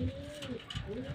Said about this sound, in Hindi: और हमारे कबूतर सामने बैठे हैं सारे